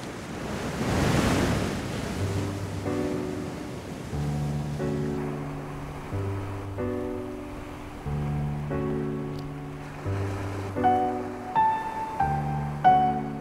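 Sea waves surging against a rocky shore while rock fishing for pollack, a broad wash of surf at first under wind, then mixed with sustained musical tones.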